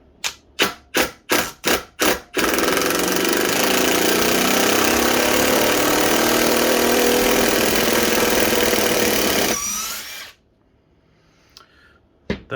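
A Ryobi One+ brushless HP impact driver backs out a deeply set screw. Six sharp rapid bursts come first, then a sustained loud hammering whir for about eight seconds that stops abruptly, followed by faint clicks.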